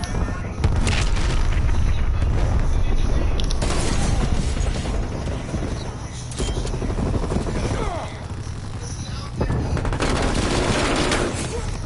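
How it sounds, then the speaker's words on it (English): A hostile sentry turret fires in the Call of Duty Cold War video game, with sustained loud automatic gunfire, booms and bursts of shots that come and go over a steady battle din, broken by short lulls. "Hostile sentry turret active."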